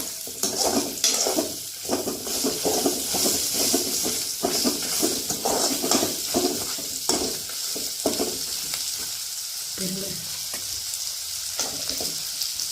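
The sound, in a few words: bitter gourd sautéing and sizzling in a pan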